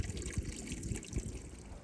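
River water flows steadily in the Scottish Highlands, a soft continuous rush with gentle gurgles, heard nearby and fairly quiet, with no voices.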